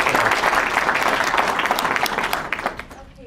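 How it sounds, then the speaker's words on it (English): An audience applauds at a governor's bill-signing ceremony, a close, full burst of clapping that gradually thins and fades over a few seconds. "A round of applause again"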